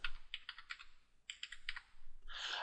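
A password is typed on a computer keyboard, a quick run of soft close key clicks in two bursts with a short pause, ending in a louder clatter, quiet and without speech.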